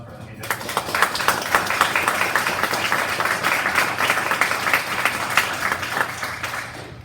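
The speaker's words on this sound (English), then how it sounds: "Can we give this guy a round of applause for everything he did?" An audience at a county commissioners meeting gives a sustained round of applause, steady dense clapping filling the room for several seconds with no clear break.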